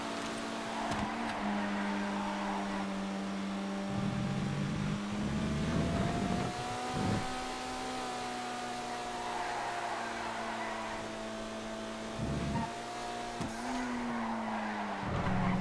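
The Retinue, a small retro sports classic car in GTA, drives with a steady droning engine hum while tires squeal and skid in repeated bursts, alone without talk.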